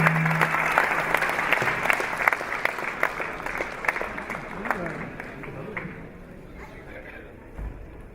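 An audience claps steadily to open an Urdu mushaira poetry gathering in Dubai, dense applause that gradually thins and fades, with a voice speaking briefly at the start.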